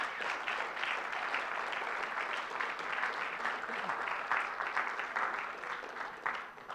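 An audience claps steadily after a history lecture, a dense, sustained round of applause from a room full of people, fairly even in loudness before tapering slightly at the end.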